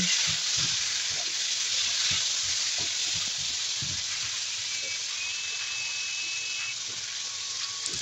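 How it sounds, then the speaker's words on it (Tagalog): Ginger, garlic, onion and tomato sauté in a pan with a steady, close broadband hiss and sizzle, punctuated by soft low knocks of stirring throughout. "Nagisa lang po ako ng luya, bawang, sibuyas, ganito yung kamatis at ating palambutin"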